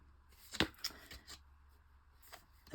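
Old index cards riffled by hand inside a box, giving a few quick papery flicks and rustles, close and fairly soft, with no talking.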